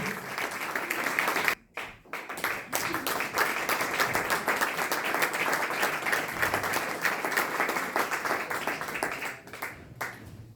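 Dense applause from a concert audience, sustained and loud for several seconds with a brief dip near the start, fading slightly at the end.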